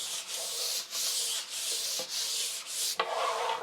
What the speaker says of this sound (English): You still need to sand between coats, but very lightly. I'm using 320 grit sandpaper,